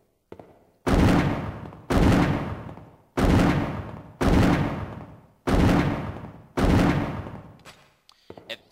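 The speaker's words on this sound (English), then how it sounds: "It fires just like the regular Magnum Revolver" Barry's Magnum revolver fired repeatedly in the Resident Evil REmake video game, six loud booming shots in a steady rhythm about a second apart, each ringing out and decaying before the next, with no talking.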